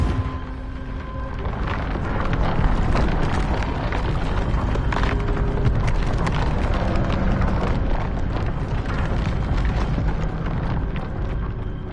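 A Confringo blast spell cast in a wizarding video game, a sustained loud roaring burst with crackling debris that rumbles on steadily for several seconds.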